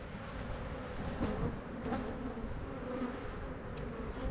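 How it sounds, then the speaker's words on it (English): Honey bees buzz around a hive frame after being shaken onto it, a soft continuous drone of many insects close by with occasional louder passes. "I just gave it a little shake, put some bees in there, and they'll get right back on that frame."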